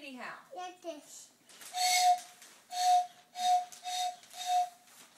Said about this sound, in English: Is he gonna come blow the whistle?